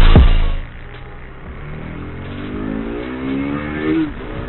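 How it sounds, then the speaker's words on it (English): A motorcycle engine revs up while accelerating on the road, its rising whine climbing steadily under rushing wind noise and close and moderately loud. "I'm feeling this bike is even more powerful than before."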